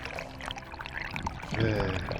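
Small shallow stream near the source of the Warta river, a soft continuous trickle and gurgle of water close by, steady and fairly quiet with slight swells in the flow.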